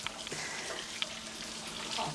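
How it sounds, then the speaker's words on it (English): Boiling water is poured into a dish to top it up, making a soft continuous hissing stream with a few small clinks, close and fairly quiet. "then top it up with boiling water"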